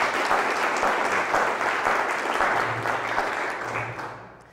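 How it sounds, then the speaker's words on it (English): An audience applauds a mayor being introduced at an oral history program, steady sustained clapping from a crowd that fades slightly toward the end. "Please give a big round of applause for Mayor Honorable Eunice Sato."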